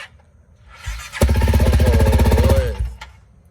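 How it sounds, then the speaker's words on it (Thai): A 2018 250cc motorcycle engine cranks over and catches, then idles roughly with a quick rev for about a second and a half before settling and cutting out, loud and close. "เดี๋ยวสตาร์ทฟังเสียงสักเล็กน้อยนะครับ"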